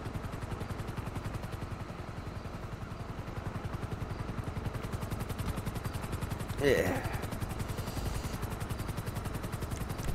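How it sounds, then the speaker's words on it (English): A helicopter flying overhead, its rotor beating in a steady, rapid chop that runs the whole time at moderate loudness, with a brief voice and a short clatter partway through. "Oh, there's a helicopter."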